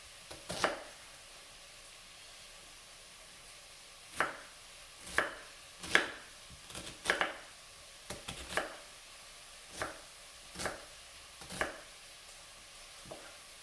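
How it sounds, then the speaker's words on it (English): Onion being chopped with a knife on a board for leek and potato soup, a series of sharp separate knocks spaced irregularly, close and clear over quiet kitchen background. "now I'm just finishing chopping the onion"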